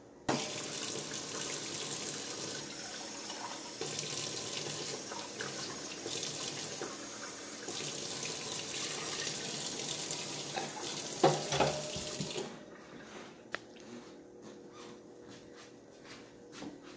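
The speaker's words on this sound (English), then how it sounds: "seeing my piece of meat is still exposed, I need to add more water." Tap water runs steadily into a pot holding a roast for about twelve seconds, a loud, continuous broadband splash and gurgle, then cuts off, leaving quieter kitchen clatter.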